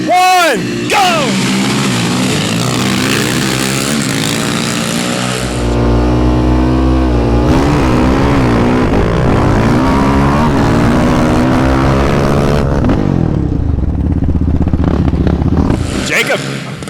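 Quad ATVs revving hard in a drag race, several engines droning and climbing in pitch together at close range for the whole stretch, with a short break in the middle and people talking over the noise.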